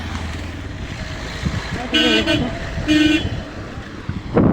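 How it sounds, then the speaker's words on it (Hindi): Two short car horn toots sound nearby over steady road traffic and engine noise, followed by a louder burst at the end. "कब से हॉर्न मार रहे हैं भैया"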